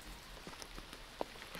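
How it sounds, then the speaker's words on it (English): Steady rain falls on an outdoor disc golf course during a tournament round, a soft continuous patter with a few sharper nearby drops standing out, fairly quiet and with no talking. "Still raining, but no lightning or anything."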